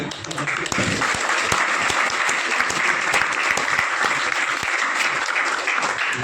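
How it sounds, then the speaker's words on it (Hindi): Applause from an audience at a Teacher's Day celebration at a coaching class, a dense, steady wash of many clapping hands filling the whole stretch, loud and close, with a brief soft start. "तालियां बजाओ भाई।"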